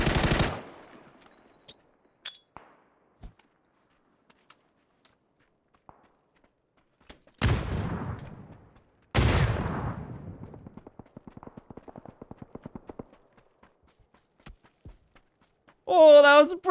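Sharp bursts of gunfire in PUBG, with a loud opening shot, then two heavy volleys that trail into a rapid rattling decay, separated by near silence and a few faint clicks, and a closing burst of sound.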